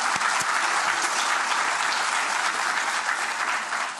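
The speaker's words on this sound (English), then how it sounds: "I want to give a round of applause" Loud, continuous applause from a large audience at a college institution day event, a dense steady wash of clapping that holds for several seconds and eases slightly at the end.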